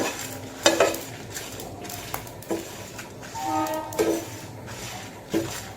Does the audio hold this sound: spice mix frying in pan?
yes